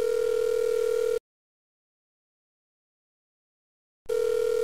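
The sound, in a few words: telephone dial tone while calling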